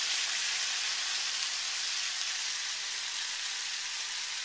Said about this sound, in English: And I am going to saute that for about 30 seconds.